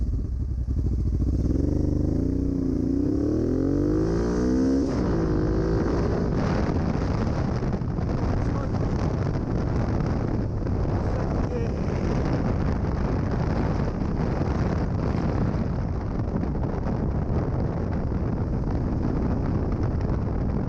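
A motorcycle fitted with a 16-tooth front sprocket pulls hard from 0 to 60 on the road. The engine revs climb loudly through the gears under strong wind roar.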